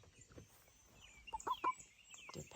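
Meat-bred chickens forage on the ground, giving soft close clucks and a few brief squawks among faint rustling.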